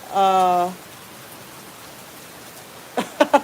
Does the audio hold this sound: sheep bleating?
no